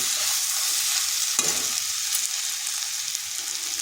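Cabbage and potato fry in a pan for a vegetarian cabbage dish, a constant bright sizzle with a spatula scraping and stirring through it, one sharper clack partway in, close and without talk.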